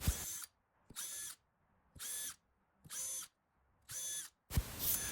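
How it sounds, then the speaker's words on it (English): A power drill whirs in five short bursts, each about half a second long, separated by brief pauses and close by. "I drill pilot holes to be used later at the drill press"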